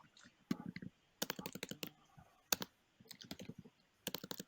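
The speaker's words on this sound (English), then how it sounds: "I hear someone typing on the keyboard" Someone types on a computer keyboard, close by, in quick bursts of crisp key clicks with short pauses, with faint voices underneath.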